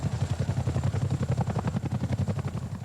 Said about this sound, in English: A Chinook lands at Boscombe Down for an exercise with a difference